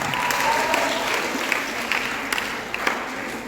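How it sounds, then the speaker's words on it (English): An audience at a talk on confident communication breaks into a round of applause, a steady wash of many hands clapping at moderate distance, with a few sharper claps near the end. "Can we give ourselves a round of applause?"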